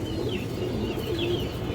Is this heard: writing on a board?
no